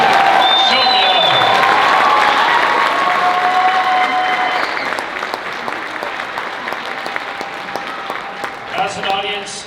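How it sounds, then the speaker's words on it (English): Loud, dense applause and some cheering from a concert audience greeting the 2022 Western Slope High School Select Band, starting strong, then fading to scattered claps with a few voices and sounds of a hall settling. "Give them a round of applause"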